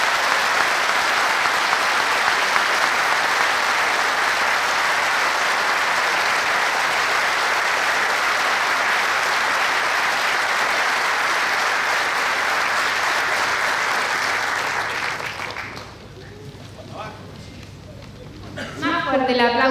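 Sustained, loud applause from a large audience at a PIT-CNT union gathering in defense of wage councils, steady for about fifteen seconds before dropping off, with voices emerging as it fades.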